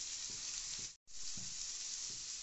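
Spices with salt, turmeric and Kashmiri chilli powder sizzling steadily in a hot pan for a fish curry, with a few soft stirring scrapes and one brief cut in the sound.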